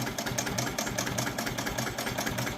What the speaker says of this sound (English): this is the slowest this machine runs, which is at 300 stitches a minute